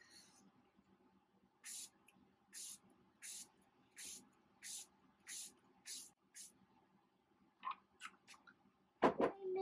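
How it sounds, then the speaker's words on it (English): A quick series of about eight short, evenly spaced hisses from a pump mist bottle of makeup setting spray, followed by a few softer irregular spritzes and a clatter. "I'm going to use my setting spray, my Green Neighbor Botanical Natural Finish setting spray."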